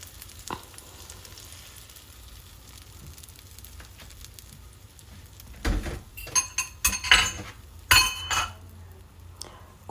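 Eggs frying in a pan in a home kitchen, a faint steady sizzle joined midway by sharp clinks and scrapes of a utensil against the pan and dishes.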